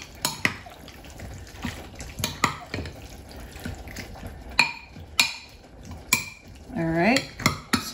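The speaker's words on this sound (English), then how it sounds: "now we're gonna stir this together" A spoon scraping and clinking against a pot while a thick corn mixture is stirred, irregular metallic taps and scrapes at close range with a brief splash of running water near the end, no voices.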